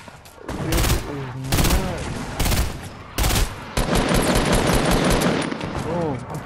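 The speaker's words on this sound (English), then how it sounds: "This is like mad people just shooting at each other" Bursts of rapid automatic gunfire in Fortnite, loud repeated volleys separated by short gaps, with a player talking excitedly between and under the shots.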